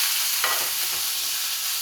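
Chopped tomato, onion and a whole capsicum sauté in a hot pan, giving a steady, close, bright sizzling hiss with a faint stir or two. No voices are heard.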